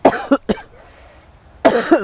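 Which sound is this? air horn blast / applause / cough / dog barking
cough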